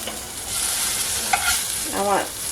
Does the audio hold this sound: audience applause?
no